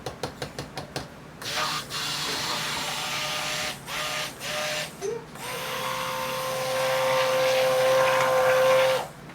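Electric blender whirring through a coffee and sugar cold-process soap batter, a series of short bursts followed by one long steady run, loud and alone.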